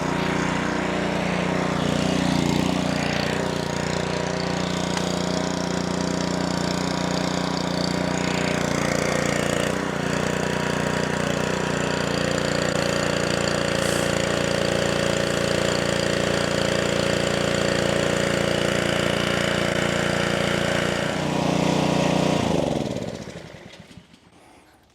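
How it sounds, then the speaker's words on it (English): A Honda GCV160 small engine fitted with a replacement carburetor runs steadily at a loud, close, even drone for over twenty seconds, then cuts off and winds down to quiet at the end. "Engine is on. Looks like it started right up."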